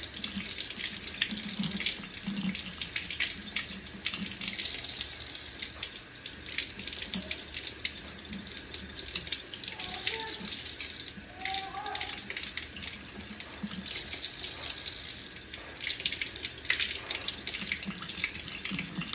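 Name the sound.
fabric rinsed under running tap water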